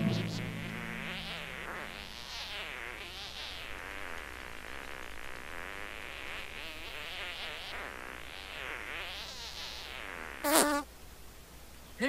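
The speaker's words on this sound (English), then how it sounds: "hope in one hand and fart in the other, and you will have a potent weapon in one of your hands" A cartoonish fart effect from the South Park video game, a long wavering buzzy tone rising and falling in pitch, ending with a brief sharp burst and faint background music.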